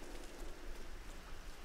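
Rain falling steadily in the Tomb Raider video game, a faint, even hiss of dense drops with no distinct individual hits.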